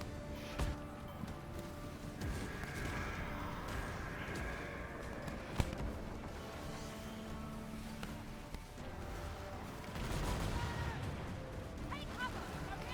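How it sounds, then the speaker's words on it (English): Fort defences fire on a ship during a naval assault in the pirate video game Skull and Bones, with muffled cannon-like booms and one sharp impact midway over a steady wash of sea and battle noise. "You can see the defences are firing torpedoes at us."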